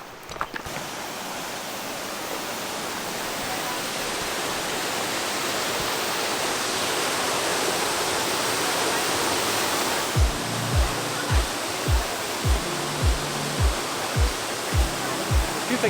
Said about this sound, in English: The waterfall thing never goes to plan for us.